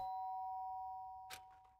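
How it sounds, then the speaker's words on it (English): A doorbell's ringing tone in the video game Danganronpa: Trigger Happy Havoc sustains and fades, followed by a brief muffled thump near the end. "Sharp sound of the doorbell pierced my..."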